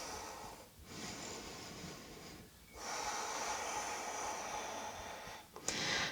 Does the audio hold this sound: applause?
no